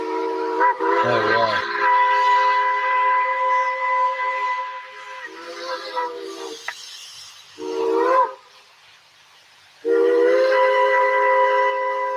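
A steam locomotive on a mountain grade lets out long, loud steam whistle blasts, sounding in several separate bursts over a hissing background, with a brief exclamation from a person in between.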